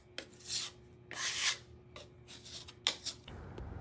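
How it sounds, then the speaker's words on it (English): Hand sanding of dried filler on a wall by a bifold door opening, a close run of rhythmic rasping strokes, some long and some short, with a faint steady hum underneath. "Needed to get this sanded up so that I could get the new track hung."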